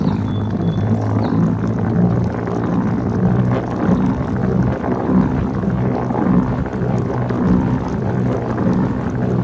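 A machine spins dirty suint-bath water out of washed sheep fleece, a steady loud whirring rumble with a low hum that continues evenly throughout with no break.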